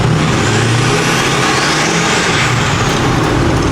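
A 6.4 Powerstroke diesel truck drives along under load with a loud, steady, rowdy roar and constant road noise, with no talking.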